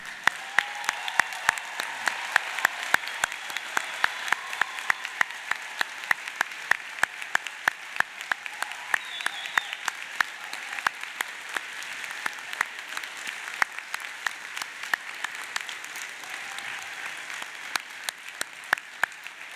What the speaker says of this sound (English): let's have a round of applause for all the graduates